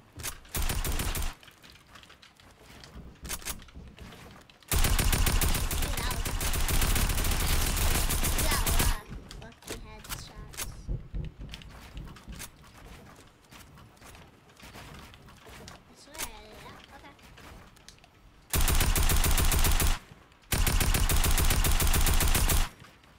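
Bursts of rapid Tactical AR fire in a video game 1v1 match, loud and close, coming in several long sustained volleys separated by quieter stretches of game sound.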